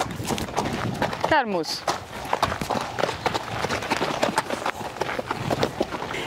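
A horse moves over a mown cross-country course, its hooves drumming in a quick, steady rhythm close by while people talk over it.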